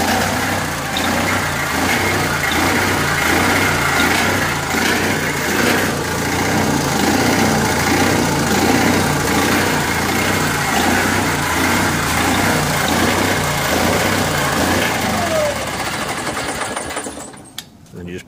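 An Onan 5.0BGA propane generator runs steadily with a fast, buzzing engine drone that holds evenly for most of the stretch, then cuts out and winds down near the end.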